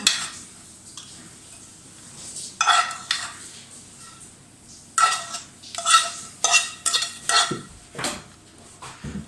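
Lardons are tipped into a pan for a quiche Lorraine and stirred with a fork, a soft sizzle underneath repeated close metallic scrapes and clinks that come in short bursts.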